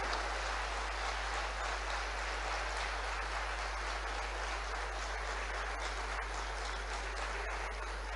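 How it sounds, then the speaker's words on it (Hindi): Sustained clapping from a large crowd at a state-level National Ayurveda Day event in Bhopal, a dense, even wash of applause that holds steady throughout. "जब आपके तालियों के आनंद आ रहा तो थोड़ा सा और हाथ लाल कर लो।"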